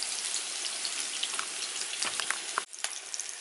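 Vegan vegetable kebabs sizzle steadily in a frying pan, a dense close crackle with scattered pops, briefly dipping as they are turned over, then resuming.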